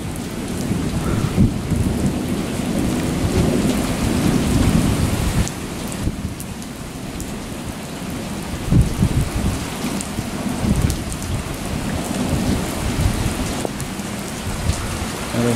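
A German thunderstorm with hail, strong wind and flooding: heavy rain pours steadily and loudly throughout, with low thunder rumbling underneath and no voices.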